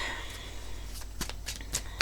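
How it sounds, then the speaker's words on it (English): Tarot cards are shuffled close by in a quiet room, a few quick riffling bursts and soft flicks near the end, faint and alone without talk. "So we're going to start with shuffling and laying out the cards here."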